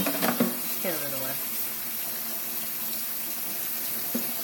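Cold water runs from a tap into a sink with a clogged drain, a steady splashing hiss throughout, and a voice is briefly heard near the start.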